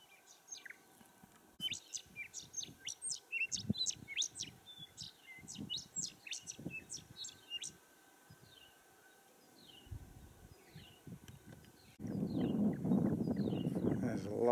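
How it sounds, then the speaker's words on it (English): Birds at a small outback creek give many quick high chirps and tweets, near and far, over a quiet background, before a louder rumble of vehicle or wind noise takes over near the end. "A lot of bird life in this little creek."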